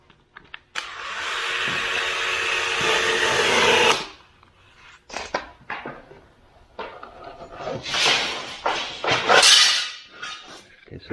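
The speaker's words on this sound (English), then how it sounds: "now I can go ahead and put 4 screws in here" Cordless drill driving four screws into a 2x4 block, a steady whirring burst of several seconds followed by shorter intermittent zips and rattles, close and loud, with no talking.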